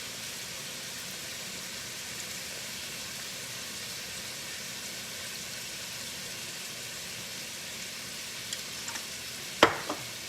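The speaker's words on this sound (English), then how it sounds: "And then we are going to stir this around real quick." Beef and broccoli sizzling in a pan with sesame oil and fish sauce, a steady close frying hiss throughout, with a few short clatters of stirring near the end.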